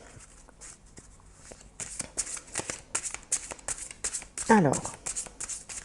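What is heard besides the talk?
shuffling Osho Zen tarot cards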